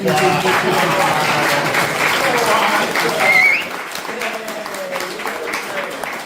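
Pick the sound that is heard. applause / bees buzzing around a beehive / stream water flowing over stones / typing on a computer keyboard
applause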